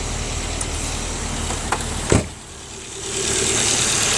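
A 2004 Volvo S40 engine, after an ignition coil repair, runs at a steady, low idle with a brief clunk partway through, then settles into a smoother hum.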